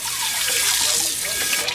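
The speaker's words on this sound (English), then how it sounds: "Wash them out with water, and they need some painting." Water splashes and rushes steadily over automotive drum brakes being rinsed out instead of using brake cleaner, a loud continuous close spray outdoors with no talking.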